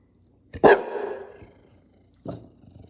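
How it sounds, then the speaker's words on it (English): A single sharp bulldog bark close by, followed after a pause by a second, shorter bark in a quiet room. "You don't know what you're barking, right?"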